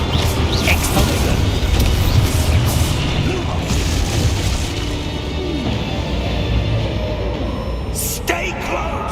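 A loud spell explosion from the Exposo charm in a Harry Potter video game: a booming blast over dense, continuous game noise with crashes and rumbling, plus a sharp burst near the end.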